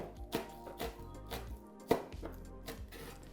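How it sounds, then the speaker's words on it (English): Knife roughly chopping spring onion on a board while making vegan tofu scramble, a string of uneven, close knocks with one sharper thump partway through, no talk. "Just gonna roughly chop it again"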